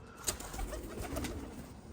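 About 600-700 pigeons coo softly and steadily, several birds murmuring together at close range with a faint background hum.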